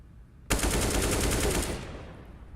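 USP pistol fire during a professional Counter-Strike match, a fast, dense run of gunshots lasting just over a second that starts abruptly, then trails off into quieter game ambience.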